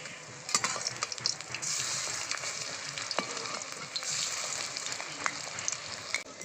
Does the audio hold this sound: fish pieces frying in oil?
yes